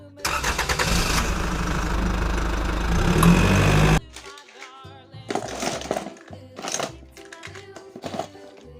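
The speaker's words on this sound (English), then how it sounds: "Tow truck." A toy vehicle's engine sound effect rumbles loudly for a few seconds, then gives way to a jaunty, beeping electronic tune.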